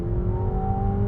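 A 2026 McLaren 750S Spider engine in track mode holds a loud, steady droning growl with a strong tonal hum, close to the microphone.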